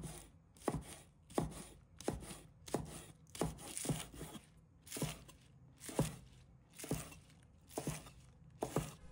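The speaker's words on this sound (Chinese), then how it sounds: "再准备几根小葱，葱白和葱叶分开切" A knife chops green onions on a cutting board in a kitchen, with the whites and greens cut separately: sharp, close thuds in an uneven rhythm of roughly a dozen strokes, clean and isolated with no talking.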